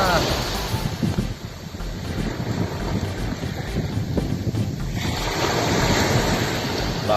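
Steady rush of surf and wind across the whole stretch at a shallow beach on Cijin Island, Kaohsiung, Taiwan, the waves washing continuously rather than breaking in distinct crashes.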